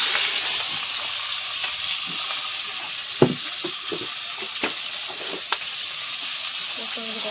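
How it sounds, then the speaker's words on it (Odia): Bhakur fish frying in a pan gives a steady broadband sizzle throughout, with occasional clinks and soft knocks of a utensil, close by. "ଏଇଠି ଆମର ଭାକୁର ଭଜା ଚାଲିଛି।"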